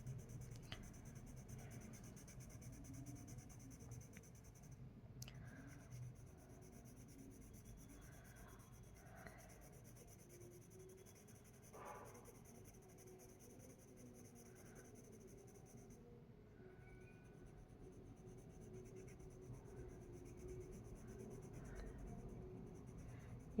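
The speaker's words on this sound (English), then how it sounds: "when you put bit of dark depth or darkness, you can put a bit of pressure on the pencil" Pencil shading on paper, with extra pressure for darker tones: a continuous soft scratchy rasp of graphite strokes, close and quiet, running steadily for the whole stretch with slight rhythmic variation.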